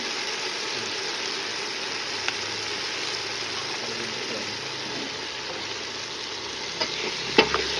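Tomato and curd masala for chicken biryani is stirred in a hot pot, giving a loud, steady frying sizzle that fills the whole stretch. A few faint spoon knocks come near the end, with no voices.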